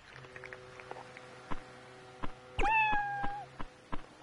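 A cat in the video game Dave the Diver gives one clear, drawn-out meow after being fed, set against soft background music with light tapping sounds before and after.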